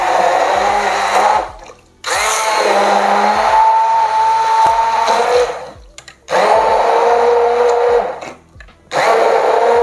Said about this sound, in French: À l'aide d'un mixeur plongeur.